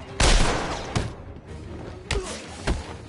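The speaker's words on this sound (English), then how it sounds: "Stop shooting, man." Gunfire in Batman Arkham City: a few sharp, loud shots spaced apart, each a hard bang with a quick echoing tail, close and punchy.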